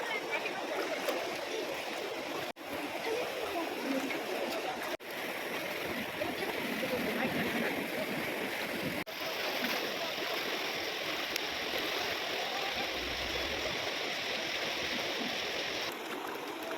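A mountain stream rushes over rocks in hilly Arunachal Pradesh, a dense, continuous wash of flowing water heard close and fairly loud throughout, with no clear pauses.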